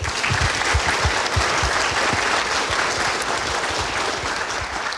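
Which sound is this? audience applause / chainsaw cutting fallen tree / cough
audience applause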